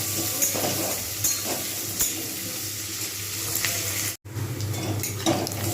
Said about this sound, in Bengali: পেঁয়াজগুলো কিন্তু আমি খুব সুন্দর করে ভাজবো। আগে লাল করে ভেজে নিই